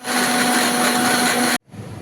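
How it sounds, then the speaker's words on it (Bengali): An electric mixer grinder blends onion, ginger and garlic into a paste with a loud, steady whirring roar that cuts off abruptly near the end, leaving faint background noise. "এইবারে আমরা নিয়ে নিচ্ছি মিক্সারে পেঁয়াজ, আদা আর রসুন।"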